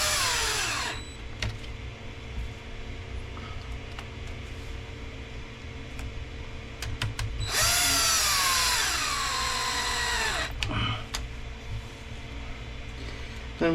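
Power driver setting 2.5 mm screws back into the cover of an Arrma Limitless V2 RC car, with a short whir at the start and a louder three-second run midway over steady background hum.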